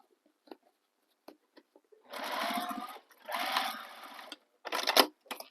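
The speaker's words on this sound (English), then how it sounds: "So again, nesting the corner seams, or the bottom seam with the side seam. Sew all the way across." A sewing machine stitches all the way across a fabric bag's bottom seam, nested with the side seam, in three close, steady whirring bursts separated by short pauses, with a few light clicks of handling before it starts.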